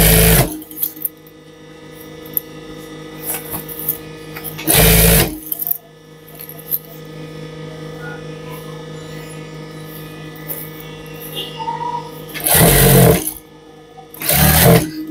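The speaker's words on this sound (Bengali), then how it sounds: "এই বরাবর কাপড় আর চেন মিল করে আপনার এই সেলাই দিয়ে বরাবর চলে আসবেন" A sewing machine stitches a zipper onto a jacket in short, loud bursts of rapid chattering. Between the runs a quieter mechanical hum carries on.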